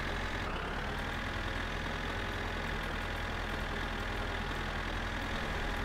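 A car engine idles steadily in My Summer Car, a constant low rumbling drone with no change in pitch, close and even throughout, with no voices.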